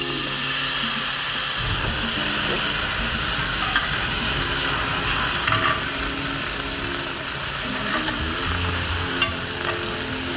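Brandy poured into a pan of softening garlic for sautéed rock lobster, producing a loud, continuous hissing sizzle with a steady bubbling frying texture throughout.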